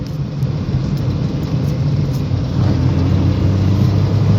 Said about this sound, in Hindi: अभी मैं जो है पेट्रोल की पिक दिखाता हूँ आपको अपनी गाड़ी की, एसी के साथ और विदाउट एसी